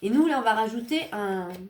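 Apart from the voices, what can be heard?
No everyday noises stand out.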